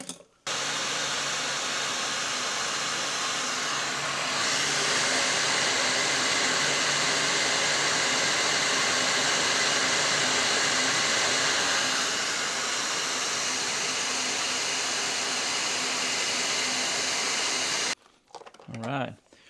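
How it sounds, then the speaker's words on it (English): A heat gun blows steadily at close range while shrinking marine heat shrink tubing with glue lining, a continuous hot-air roar lasting nearly the whole stretch before cutting off abruptly near the end. "Get out my heat gun."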